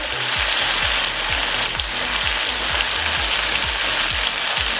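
Ingredients for degi chicken pulao fry in a pan, giving a continuous loud sizzle with a steady crackle and repeated stirring or scraping strokes throughout.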